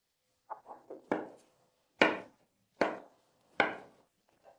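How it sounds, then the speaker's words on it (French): Avocado being cut into small pieces on a board: a few soft taps, then four distinct knife chops spaced about a second apart, close and fairly quiet with no talking. "coupez l'avocat en tout petits morceaux"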